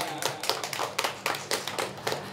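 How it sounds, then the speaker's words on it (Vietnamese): Guests at a wedding ceremony clap together in short, rhythmic bursts of applause that pulse roughly every half second. The clapping is close and fairly loud, with no talking. "Họ nhà trai chúng ta cho một tràng pháo tay nữa ạ."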